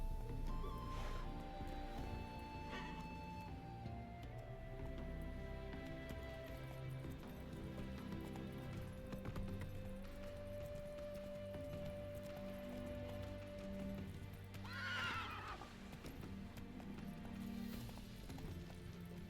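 Horse hooves clip-clopping at a steady gallop while riding in The Witcher 3 video game, continuous and fairly close under a dense musical score, with a possible brief whinny midway.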